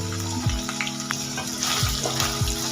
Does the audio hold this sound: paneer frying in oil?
yes